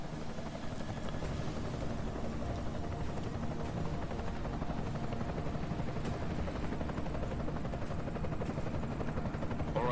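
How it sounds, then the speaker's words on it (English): An enemy helicopter in Deus Ex: Mankind Divided on PS5, a continuous thudding rotor drone with a dense mechanical rumble, steady and fairly loud throughout with no talking over it. "Enemy helo sighted."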